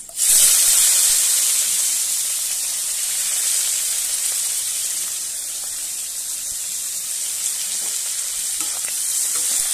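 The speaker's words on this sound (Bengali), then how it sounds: "ভালো করে নেড়ে চেড়ে আমি একটু ভেজে নেব।" Chopped garlic and onion fry in a hot pan after a five-spice tempering, giving a loud, steady, continuous sizzle that runs unbroken with no voices.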